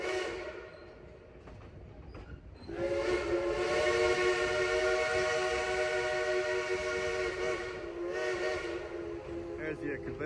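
A freight train rolls past on a rail line near a forest bike route in West Virginia, its steady rumble of cars growing louder midway while a long, sustained whistle sounds over it, then easing slightly toward the end.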